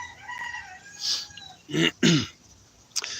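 Two harsh, throaty coughs close to the mic, preceded by a short breathy sound and followed by a brief sharp noise.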